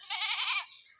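A single goat bleats loudly and close by in a village, one sustained wavering call lasting about half a second before trailing off into quiet.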